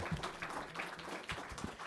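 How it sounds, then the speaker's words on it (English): Listeners applaud after a talk on institutional reforms and democratic governance, a thin, fairly quiet scatter of claps from a modest audience with some irregular, distinct hand strikes. "If you could just join me in another round of applause for Dr. Ishrat."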